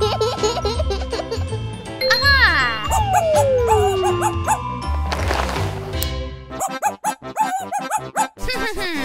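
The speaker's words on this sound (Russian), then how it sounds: "А почему там звуки, похожие на лай?" A dog smuggled into a shop gives sharp, yappy barks and whimpers, layered over loud, busy music and playful vocal sounds for several seconds.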